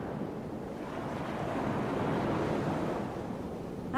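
Ocean waves wash steadily through a Touhou 11 music track as a continuous, moderately loud surf hiss that swells slightly midway, with no voices.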